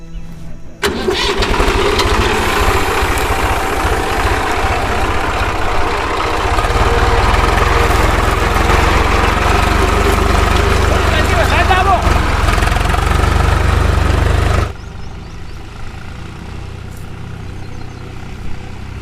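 A tractor engine runs loudly and steadily close by, its low rumble deepening partway through before cutting off abruptly, leaving quieter background noise.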